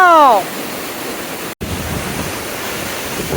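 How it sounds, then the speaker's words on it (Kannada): Steady, broadband roar of rushing water from the Nettagodu waterfall, continuous and fairly loud, with a short whistle-like tone at the very start. "Falls sound ಹಂಗದೆ."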